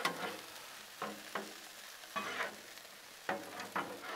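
Onions and peppers sizzle on a Blackstone griddle as a spatula stirs them, with about six scraping strokes spaced through a steady fry hiss, close and moderately loud, with no talking.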